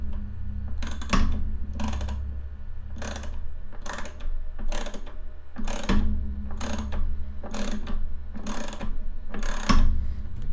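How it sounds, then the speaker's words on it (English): An oversized ratchet on a GEEETECH A10 3D printer build is cranked in repeated bursts of rapid clicking, about nine strokes with short pauses between, close and crisp over a low background hum. "You never expected to see a ratchet of this size on a build, did you?"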